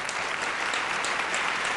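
Applause for a guest on a hip hop show, a short burst of even, dense clapping with no talk.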